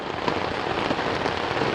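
Rain drums steadily on a tent during a solo canoe trip in the Boundary Waters, a dense, even hiss of countless drops pattering close overhead with no pauses and no speech.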